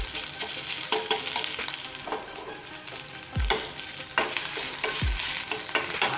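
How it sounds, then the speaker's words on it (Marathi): Garlic and green chillies fry in a pan, giving a steady close sizzle with scattered scraping stirs and a couple of sharper knocks of a utensil against the pan. "लसूण आणि हिरवी मिरची थोडी घालायची आहे चवीपुरती. आणि हे थोडं आपण फ्राय करून घेऊया."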